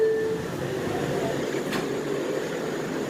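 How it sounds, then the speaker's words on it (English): An R179 subway train on the A line to Far Rockaway rumbles along with a steady ride noise and a brief high squeal at the start, no talk. "We is on a Far Rockaway, Mont Avenue bound R179 train."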